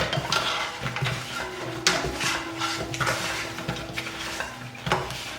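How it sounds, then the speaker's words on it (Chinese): Crab coated in salted egg yolk is stir-fried with a handful of scallion pieces in a wok, giving soft sizzling, scraping and tossing clatter that comes in irregular bursts, close by and without talk. "翻炒到螃蟹完全裹上了蛋黄，我们就放入一把葱段，翻炒一下就可以关火啦"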